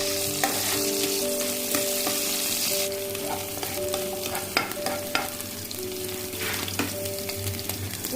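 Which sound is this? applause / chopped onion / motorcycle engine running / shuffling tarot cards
chopped onion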